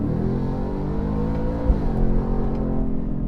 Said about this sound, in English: And the active exhaust, it truly does make a difference